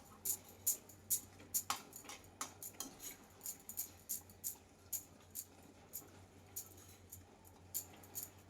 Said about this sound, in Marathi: आता हा तुपामध्ये आपण हा रवा टाकायचा आहे आणि याला तुपामध्ये मस्तपैकी परतून घ्यायचं